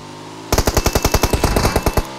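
Automatic gunfire in PUBG Mobile, a loud close burst of about fifteen rapid, evenly spaced shots lasting around a second and a half.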